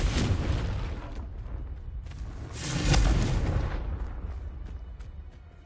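A Confringo explosive spell blasts in Hogwarts Legacy, a deep booming impact that swells midway and rumbles out over continuing low, noisy game ambience.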